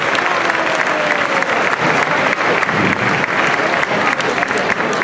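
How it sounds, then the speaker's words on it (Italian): A studio audience at a cooking show applauds a dish of extra virgin olive oil cream with garusoli sea snails and pea sprouts, dense steady clapping throughout, loud and close. "Beh, un applauso glielo facciamo"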